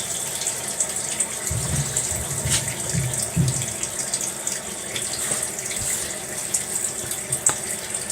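Hot water runs steadily from a tap in a continuous hiss and splash for several seconds, with faint low knocks and clatter near the start and no talking.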